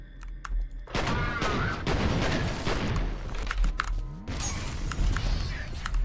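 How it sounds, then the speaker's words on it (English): A grenade and gunfire in F.E.A.R., with loud volleys of rapid shots, heavy thumping blasts and crackling debris that keep going for several seconds. "let's just throw a grenade in there"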